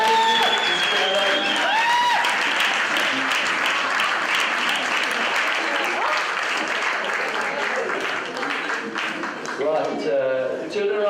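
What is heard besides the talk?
audience applause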